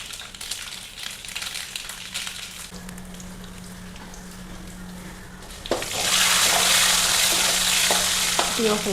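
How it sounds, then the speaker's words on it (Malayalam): Mustard seeds sizzling in hot coconut oil during tempering for a Kerala-style roasted-coconut jackfruit curry, with stirring and clinking early, then a loud, steady crackling sizzle that swells midway and continues close up without talk. "വെളിച്ചെണ്ണ ചൂടായിട്ടുണ്ട്. നമുക്കതിൽ കടുകിട്ടു."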